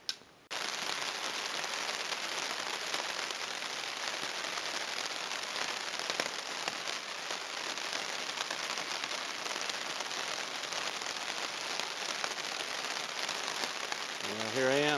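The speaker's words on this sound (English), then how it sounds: "It's a nice rainy morning" Steady rain falls on a camp in the Mount Baldy Wilderness, Arizona, a constant close hiss of drops pattering on a surface with no break, alone and without talk.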